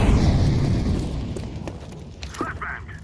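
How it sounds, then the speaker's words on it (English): A flashbang grenade goes off in Counter-Strike 2, a loud low burst that slowly fades, followed by a few faint clicks and brief muffled sounds. "Throw in the flashbang."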